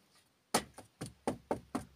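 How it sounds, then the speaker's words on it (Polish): Six sharp knocks on a door rap out in a quick, fairly even rhythm, close and distinct against near silence, with no talk. "zapuka ci do drzwi albo zadzwoni"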